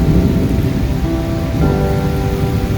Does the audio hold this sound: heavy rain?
yes